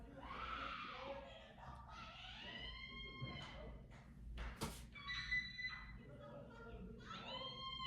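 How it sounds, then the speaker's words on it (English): Faint screaming drifts in from outside, thin and distant, in a steady wavering stream under a low background hum, with a sharp thump midway and some speech. "Can you guys hear the screaming?"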